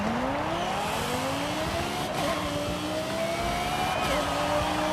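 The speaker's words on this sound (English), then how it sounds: "This V10 screams." Stock Yamaha V10 supercar engine in Forza Horizon 5 wailing at high revs, with rising pitch sweeps as it accelerates through gears, loud and continuous with tire noise underneath.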